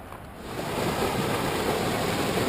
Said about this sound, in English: we finally find the Colorado River, the driving force behind the creation of the Grand Canyon